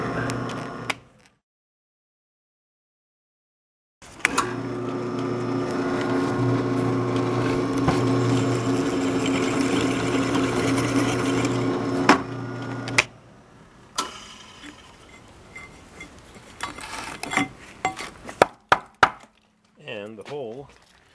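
A power drill with a drill bit bores a hole through a metal hitch bracket, running as a steady loud whine for about nine seconds before cutting off, followed by clanks and handling noises.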